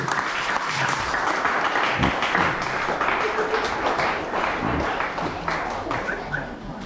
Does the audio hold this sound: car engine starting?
no